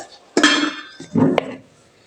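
A plate with a fork on it is slid aside while preparing Bangladeshi taki fish bhorta, giving two brief close ceramic clatters with a light metallic clink, no speech.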